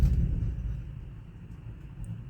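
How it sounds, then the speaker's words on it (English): Thunder from a close storm rolls as a low, heavy rumble that fills the space, loudest at the start and then easing into a steady distant grumble, with no talking. "if you can hear thunder or rain, it is still storming outside"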